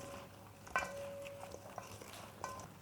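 Crisp, light clattering and rustling of fried chicken wings being tossed in a bowl, with a few sharper clinks, fairly quiet and close.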